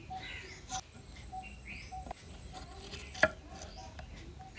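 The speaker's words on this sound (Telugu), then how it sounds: "నేను అలా కోస్తున్నాను ఇట్టగా కోసి రెడీ పెట్టుకోవాలి" Sharp knife taps on a board, irregular and fairly quiet, with one louder chop standing out, over a soft room background.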